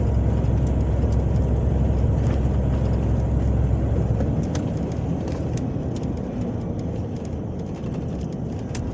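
A car cruising on a Ukrainian highway from Vinnytsia toward Khmelnytskyi, a steady loud engine and road-tire roar from inside the cabin that holds constant with a slight easing partway through.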